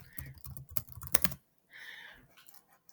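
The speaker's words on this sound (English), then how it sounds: "So let's type it in." Typing on a computer keyboard, a quick burst of close, crisp key clicks for about a second and a half, followed by a short pause and a faint unclear sound.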